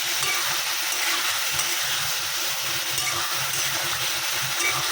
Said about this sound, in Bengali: ঝিঙে পোস্ত রান্না হচ্ছে, আলু ঝিঙে দিয়ে পোস্ত দিয়ে।